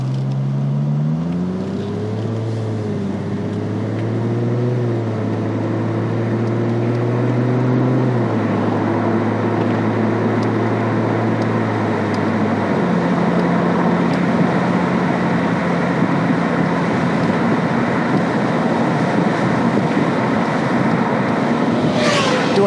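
A 2003 Aston Martin DB AR1 accelerates up to speed. The engine note climbs through several gear changes and then settles into a steady cruising drone with road and wind noise. It is heard from inside the car.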